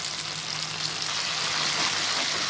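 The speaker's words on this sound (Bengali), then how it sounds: "এভাবে কিছুক্ষণ আমি কষাতে থাকবো" Spices sauté in hot oil in a pan for a Bengali oil-fried koi fish curry, giving a steady, close, dense sizzle that hisses on without a break.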